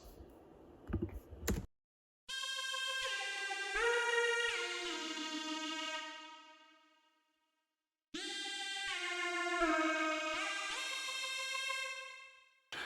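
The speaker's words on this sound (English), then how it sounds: "the next part that I have is a synth lead that really just accents a main" Bright, buzzy synthesizer lead plays two sustained phrases with gliding pitch, separated by a brief silence, loud and alone.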